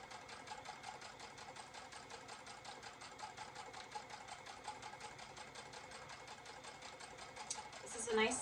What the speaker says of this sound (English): I'm just going to go ahead and start sewing these borders on